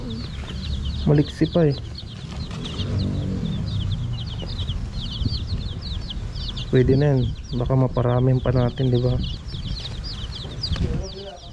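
Newly bought day-old chicks cheep repeatedly in high bright bursts throughout, with a few lower clucks from chickens, close by and steady, while people talk intermittently over them.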